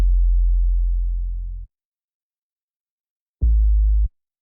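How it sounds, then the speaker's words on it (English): Detuned 808 bass notes in Ableton Live, two deep sustained sub-bass hits phasing against each other, the first long and slowly fading, then silence before a short second hit. "these detuned signals combine and start to phase with each other, creating some movement."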